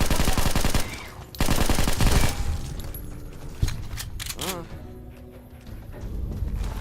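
Gunfire in Fallout New Vegas: rapid, loud repeated shots in two heavy bursts, then scattered single shots amid game sounds and clanks.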